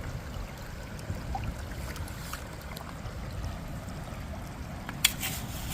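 Creek water flows steadily at a gold prospecting sluice run in Indiana, a continuous low rushing wash with faint trickles, one brief sharper splash near the end, and no talking.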